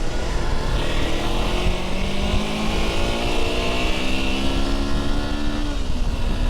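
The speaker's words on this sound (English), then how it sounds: "Engine sounds smooth. I think this engine's good, man." Motorcycle engine running smoothly, a steady close engine drone with rising and falling pitch as it revs through gears, loud and continuous with no talk.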